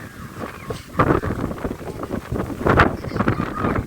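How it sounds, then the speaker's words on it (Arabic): Gusty seaside wind on a Saudi Arabian beach buffets the microphone with low rumbling bursts, swelling louder around the middle and end, while a voice talks underneath. "اكيد انتوا سامعين صوت الهوا مش سامعين صوتي"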